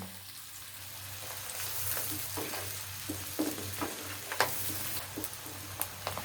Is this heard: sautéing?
yes